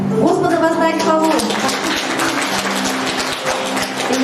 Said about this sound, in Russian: И я думаю, что наш Господь заслуживает таких бурных аплодисментов.